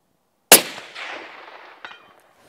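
At a target-shooting range, a gun fires one sharp, loud shot that rings out with a decaying echo, followed by a fainter second report after over a second, then silence.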